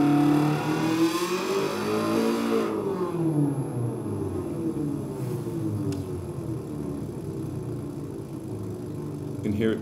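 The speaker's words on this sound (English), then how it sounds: "this race car, and this was actually used in this game NASCAR 2000" A physically modelled race car engine from the NASCAR 2000 video game revs loudly, then the pitch sweeps down and settles into a lower sputtering rumble.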